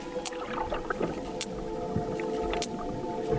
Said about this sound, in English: I can hear sperm whales. I can hear a steady click train.